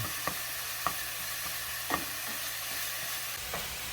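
Sausage frying in a pan and being broken up with a utensil, a constant loud sizzle punctuated by regular scraping jabs about once a second, close up with no talk.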